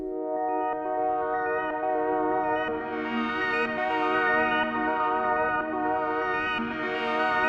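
A textured synth pad from Analog Lab's Lily's Dreams preset, processed with Gross Beat, plays solo as sustained layered tones under a slowly rising filter, steady and moderately quiet.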